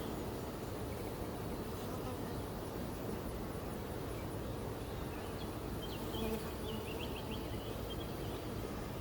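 Honeybees buzz steadily in a dense, constant drone at an opened hive full of brood comb, heard close and alone throughout.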